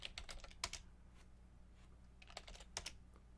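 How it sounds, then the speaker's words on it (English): Keys clatter on a computer keyboard in quick, uneven bursts of typing, faint and close in a quiet room with pauses between strokes. "let's go ahead and type something in here"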